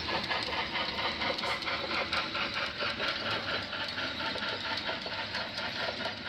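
An HO scale model train hauling coal runs steadily with a fast rhythmic clatter and whir, a continuous mechanical hum at moderate volume with no talking.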